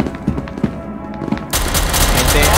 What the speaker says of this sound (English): Stop shooting your gun, Nils.